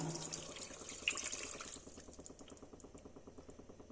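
A glass of water poured into a pot of mutton curry, heard as a faint steady splashing pour that tapers into softer bubbling and trickling, with no talking.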